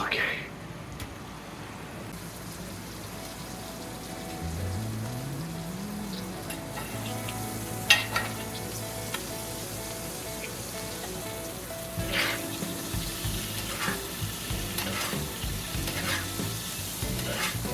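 Swordfish basting in butter in a hot pan, a steady crackling sizzle with occasional spoon clinks and spatters, a voice speaking softly over it at times.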